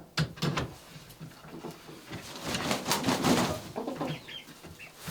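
Chickens around a backyard coop on a Swedish farm give scattered clucks and soft calls, with a few wing flaps and wooden knocks nearby, fairly close and moderately loud.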